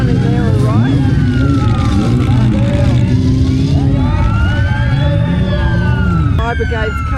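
Wailing emergency sirens from an approaching fire brigade and rescue vehicles sweep up and down continuously at a motorcycle rally crash scene, loud over traffic rumble.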